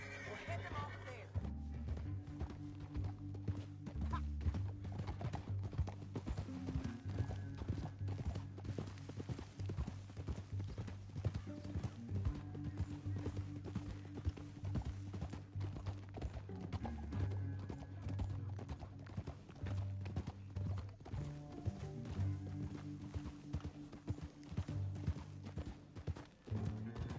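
Horse hooves clip-clop at a steady gallop in the Red Dead Redemption 2 western game, running continuously under music, with an occasional whinny and brief talk.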